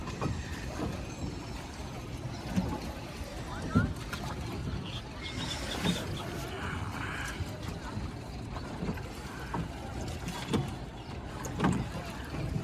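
Oars dip and splash at irregular intervals as a boat is rowed and steered on the river at Triveni Sangam, Prayagraj, partly masked by continuous nearby voices and chatter.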